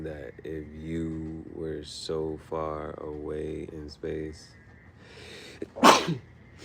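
A single sharp human sneeze bursts out near the end, loud and close, after a stretch of someone talking.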